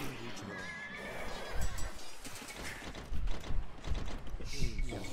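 A horse neighs in an Age of Empires 2 DE match amid busy game sounds and clatter, with a player talking over the action throughout.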